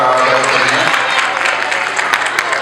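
Audience applause at a Pongal debate forum rises as a dense, loud clatter of many hands, steady throughout, with a voice audible beneath it at the start.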